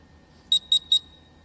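A quiz competition buzzer at a live senior-category grand finale gives three short, sharp electronic beeps in quick even succession, loud and clear over a quiet room.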